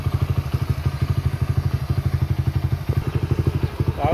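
A Honda Sonic motorcycle engine idles up close with a steady, rapid, even thumping pulse throughout, loud and continuous with no voices.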